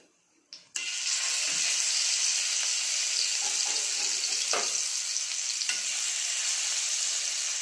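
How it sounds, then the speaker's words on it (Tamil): Raw banana slices fry in oil on a dosa griddle, breaking into a loud, steady, crackling sizzle after a quiet start, with a few faint utensil taps and no talking. "இந்த மாதிரி எண்ணெயில் தோசைக்கல் போட்டு வறுக்கிறது நல்லாயிருக்கும் டேஸ்ட்டாக."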